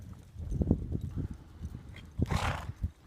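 A horse in a barrel racing lesson moves around the arena with a rhythmic patter of hoofbeats and a sharp snort partway through, fairly close and with no talking.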